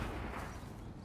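Gunpowder burned in a confined space and forced down a barrel, giving a loud, continuous rumbling roar with dense low-end energy that fills the whole moment, with no voices over it.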